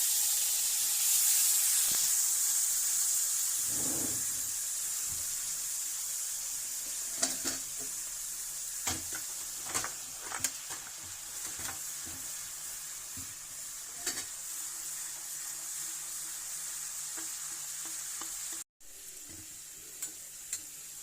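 Garlic-ginger paste hitting hot oil with asafoetida in the pan gives a steady hissing sizzle, starting loud and slowly fading, broken by repeated light clinks and scrapes of a spoon stirring.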